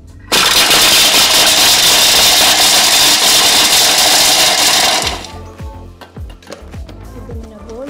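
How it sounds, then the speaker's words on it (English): A small blender whirs through white chocolate in a tiny kitchen, a loud continuous grinding roar for about five seconds that cuts off abruptly, followed by a few quieter clinks and knocks. "So next, I'm going to add 50 grams of white chocolate. So 50 grams. I'm going to blend them again."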